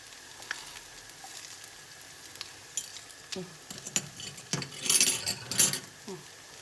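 Soft sizzling of grated potato pancakes frying in a pan, with occasional clinks and scrapes of a fork against it.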